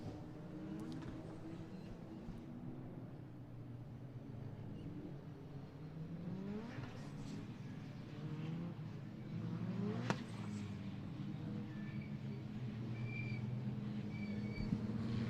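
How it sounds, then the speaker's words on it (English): Modified Ford race cars, including a Sierra Cosworth, lap the Mondello Park circuit. Several engines rise and fall as they pass at a distance, with gear changes and faint commentary underneath. "So cars weaving around on track."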